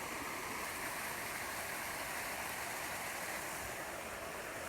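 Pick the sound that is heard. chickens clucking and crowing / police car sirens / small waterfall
small waterfall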